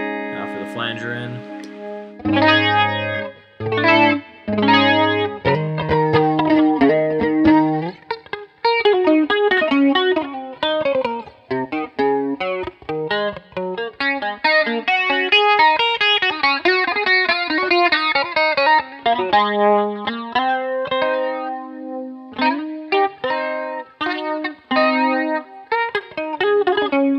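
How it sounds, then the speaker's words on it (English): Electric guitar running through a Boss BF2 flanger pedal, playing a long stretch of picked melodic lines and ringing chords with a shimmering, swept tone, loud and steady throughout with no voices. "Now for the flanger in."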